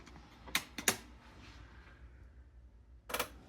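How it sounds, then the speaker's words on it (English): A Sony TC-K690 cassette deck has its tape taken out and another inserted for recording, giving a few sharp plastic clicks and clacks, two close together early and one more after a quiet pause, in a quiet room. "Remove my tape and install the tape for recording."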